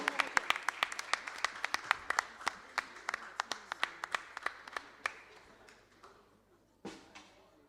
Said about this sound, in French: Applaudissez très fort pour le roi de roi